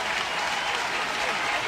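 A baseball stadium crowd roars steadily with dense clapping and cheering, loud and continuous throughout with no gaps, a commentator's voice faintly under the din.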